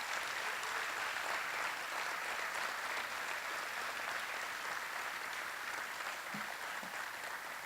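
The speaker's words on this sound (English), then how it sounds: "Let's give them another round of applause" Sustained applause from a large crowd at an alumni awards gala, a dense even wash of clapping that continues steadily without pause.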